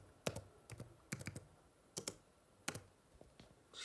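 Keys clack on a computer keyboard while a variable name is entered in Scratch, a quiet, close sequence of quick taps in small clusters with short gaps between them.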